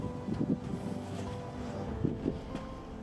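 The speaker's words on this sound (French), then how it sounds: "il y a du vent" Wind gusts buffet the microphone on a tiny house roof in low, rumbling gusts, with a couple of louder swells over steady outdoor noise; no voices.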